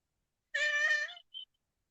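A cat gives one clear, drawn-out meow, followed by a short faint squeak, alone and fairly quiet.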